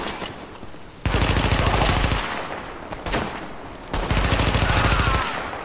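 Automatic weapon fire in the shooter game The Division, three loud close bursts of rapid shots separated by short quieter gaps.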